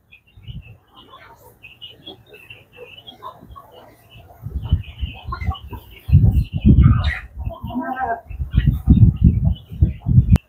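Small chickens cluck and chirp close by, soft at first then busier and louder, with birdsong in the background.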